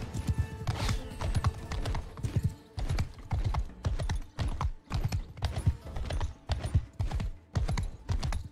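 Rhythmic hoofbeats clop along in repeated bursts in the video game Mount & Blade II: Bannerlord, a horse moving at a quick gait, close and moderately loud.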